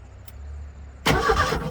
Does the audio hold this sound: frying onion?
no